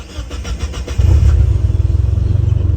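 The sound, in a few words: car engine starting and idling with Link G4X ECU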